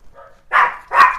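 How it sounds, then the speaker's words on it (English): Neighbors' dogs barking nearby, a couple of loud, sharp barks following a softer yip, with no talk over them. "Sorry, the dogs, my neighbors."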